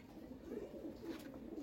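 Domestic pigeons in a home loft give a soft, low, throaty cooing, faint and continuous over a short stretch.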